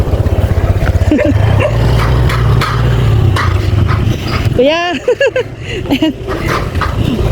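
A dog barks and yips a few times close by, over a running engine rumble, with people talking briefly.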